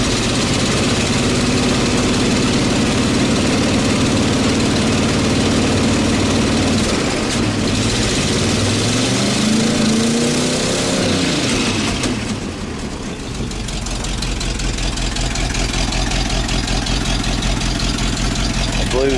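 An engine idles steadily after a fuel leak repair, a continuous low rumble with a faint knocking texture, close and loud throughout, easing slightly for a moment before settling back into the same even idle.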